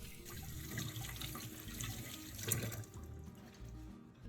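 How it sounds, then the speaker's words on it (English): Running tap water splashes steadily into a sink as apples are rinsed underneath, close and moderately quiet. "wash the 4 apples thoroughly under running water to remove any dirt."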